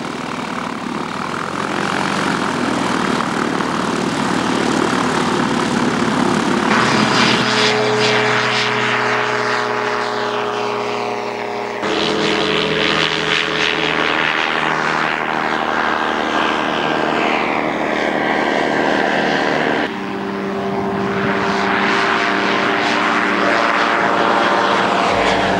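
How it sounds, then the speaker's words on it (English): Flex-wing microlight aircraft leave Bembridge on the Isle of Wight, their propeller engines droning loudly and continuously as they fly past one after another, with the pitch shifting as each passes. "The microlighters leave Bembridge for home, taking with them happy memories of a great weekend on the Isle of Wight."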